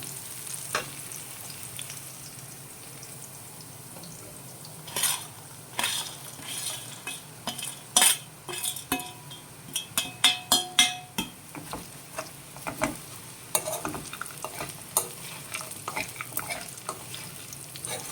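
Bitter gourd pieces and onions stirred in a shallow-oil pan, a soft continuous sizzle broken by repeated scraping and clinking spoon strokes against the pan, growing busier midway, with no voices.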